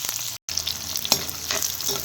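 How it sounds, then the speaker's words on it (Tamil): Small onions sautéing in oil until golden after a mustard seed and curry leaf tempering, a steady close sizzle with a few stirring clicks and a brief dropout. "வெங்காயம் போட்டு நல்லா கொஞ்சம் பொன்னிறமாக வர வரைக்கும் வதக்கணும்"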